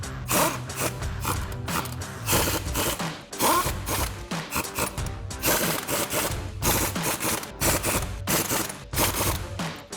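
Ratcheting socket wrench tightening lug nuts on a Jeep Wrangler JL wheel fitted with a 2-inch hubcentric wheel spacer, with repeated rapid clicking bursts close by and no talking.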